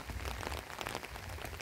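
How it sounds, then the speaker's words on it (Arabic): Heavy rain pouring down outdoors in Morocco, a steady dense hiss of drops hitting surfaces that holds continuous and fairly close throughout, with no voices. "وطيح الشتا بزاف بزاف"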